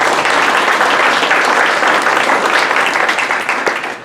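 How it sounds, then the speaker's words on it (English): Close, loud audience applause for the Colorado Springs mayor at a district community meeting, a dense burst of many hands clapping that holds steady, then tapers off toward the end. "let's give him a round of applause"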